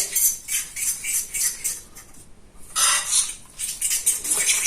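A spoon scrapes and clinks against a bowl while mixing a fruit mixture, rhythmic bright stirring strokes close by, pausing briefly near the middle before resuming.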